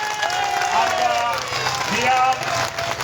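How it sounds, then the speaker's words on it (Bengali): An audience at a volunteer party workers' rally in Khulna Sadar claps loudly, with crowd voices and shouts mixed into the applause throughout. "সবাই একটু জোরে করতালি দিয়ে"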